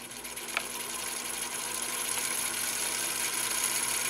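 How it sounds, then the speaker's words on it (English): A 1928 Singer 99K-13 sewing machine is turned by hand to wind a bobbin, giving a steady, even mechanical whir with a faint hum throughout and one small click near the start, heard close and alone. "You can also operate it by just pushing it with your hand as well, like I'm going to do right now for winding this bobbin."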